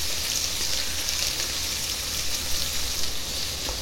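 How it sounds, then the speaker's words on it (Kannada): Spices, chillies and almonds frying in three to four spoons of oil in a pan for chicken curry, a steady close crackling sizzle that holds evenly throughout with no voice. "ಅದಕ್ಕೆ ನಾನೀಗ ಒಂದು ಪಾತ್ರೆ ಇಟ್ಟು ಅದರಲ್ಲಿ ಒಂದು 3-4 ಸ್ಪೂನು ಎಣ್ಣೆ ಹಾಕಿ ಎಲ್ಲ ಮಸಾಲೆಗಳನ್ನ ಕಟ್ ಮಾಡಿ ಅದರಲ್ಲಿ ಹಾಕಿ ಹುರ್ಕೊತಿದ್ದೀನಿ"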